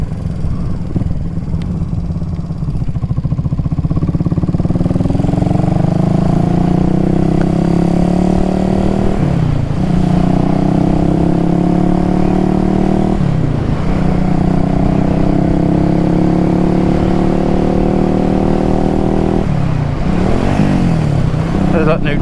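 Honda CB350 motorcycle engine running steadily while riding, a loud continuous mid-range drone with harmonic bands that dip briefly at gear changes and then pull back up; a voice talks over it.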